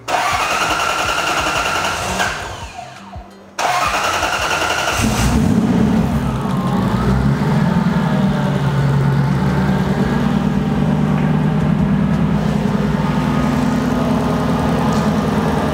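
A supercharged V8 in a drift truck starts up at close range, going quiet for a moment before catching with a loud roar, then dropping into a strong, steady idle that continues to the end without talk.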